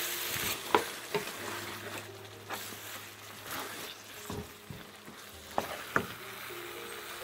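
Sauces fry and get stirred in a pan while cooking tagliatelle pasta, with a soft steady sizzle broken by a few sharp scrapes and taps of the utensil, quiet and close, with no talking.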